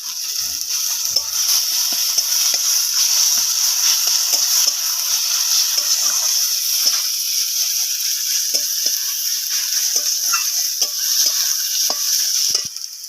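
Garlic paste sizzling in hot oil in a pan while cooking jackfruit with prawns, a steady bright hiss with small crackles and occasional scrapes of stirring throughout.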